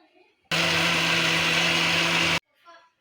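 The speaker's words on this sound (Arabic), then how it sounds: "في الاول غادا نطحن الخوخ مع الحليب والفاني" A blender whirs loudly at a steady pitch for about two seconds, puréeing peaches with milk and vanilla, then stops abruptly; faint speech is heard just before and after.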